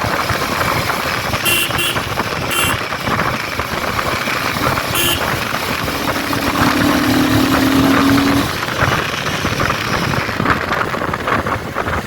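A Royal Enfield Himalayan 450 motorcycle engine runs steadily at high revs during a ride in light rain, a continuous loud drone mixed with wind and road noise and a brief tonal whine midway.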